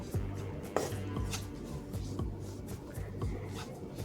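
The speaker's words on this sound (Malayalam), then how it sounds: "ഇനി നമുക്കൊന്ന് ഇളക്കി കൊടുക്കാം." A spoon stirs spices with meat masala in a pot for kappa biriyani, making repeated close scraping and tapping strokes against the metal in a steady rhythm.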